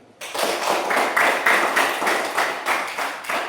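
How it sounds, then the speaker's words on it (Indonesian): A classroom of students claps together in a steady, regular beat, about a dozen evenly spaced clap bursts in quick succession, close and fairly loud with no talking. "Kalau hadir semua kita tepuk tangan."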